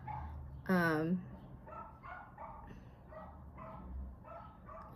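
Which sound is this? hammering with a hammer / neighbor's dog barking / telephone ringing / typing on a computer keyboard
neighbor's dog barking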